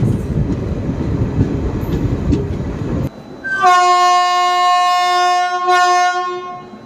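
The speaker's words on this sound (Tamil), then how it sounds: "கலங்காணி ஸ்டேஷனில் ட்ரெயின் பார்த்தீங்கன்னா டிபார்ட் ஆகிடுச்சு" A passenger train on the Salem–Karur–Trichy line pulls out of the dark, unlit Kalangani station, its rumbling wheels giving way to a loud, sustained multi-tone horn blast close by, holding steady for several seconds.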